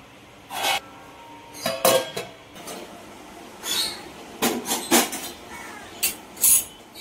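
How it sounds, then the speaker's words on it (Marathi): A metal lid set onto a cooking pot of spicy prawn curry produces several short, close clanks and scrapes in irregular bursts, separated by quiet gaps, with no talking. "आता मी हे झाकण मारून ठेवते."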